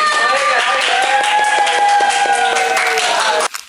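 At a campus committee talk session, a group applauds itself with loud, dense clapping and voices over it, holding steady for several seconds before cutting off abruptly.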